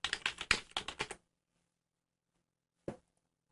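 Someone types a search into a freelance job site on a computer keyboard: a quick burst of crisp, close keystrokes for about a second, then a pause and one final key press.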